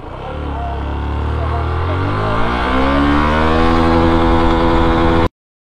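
A Yamaha FZS V2 double-disc motorcycle accelerates hard in first gear, its loud, close engine note climbing steadily in pitch for about five seconds before cutting off abruptly.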